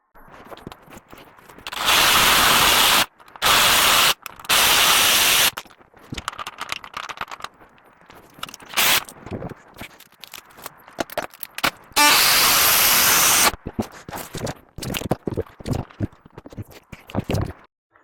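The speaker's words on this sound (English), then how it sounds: "got a couple of fresh metal blades. Let's try and get these rusty bolts off." A reciprocating saw fitted with fresh metal blades cuts through rusty bolts on a job site, with several loud, sustained bursts of harsh buzzing separated by pauses, rattles and clunks, close to the listener.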